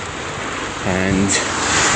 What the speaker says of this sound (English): we're having rain on a Christmas Eve